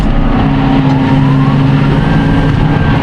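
Tractor engine at about 1400 rpm during harvest-season field work, moving at roughly 9 km/h: a loud, steady drone with a sustained low tonal hum that holds constant throughout, with no talk.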